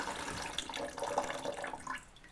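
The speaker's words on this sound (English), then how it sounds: "So if I turn it just a short distance, what's coming out of there is cold water." Cold water runs steadily from a shower faucet during a third-floor bathroom shower installation, a continuous close-up rush of water with no talk.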